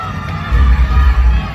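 A big pageant crowd cheers and claps at a crowning moment, loud and close, with shouts and whoops rising in a dense, continuous roar for a brief burst.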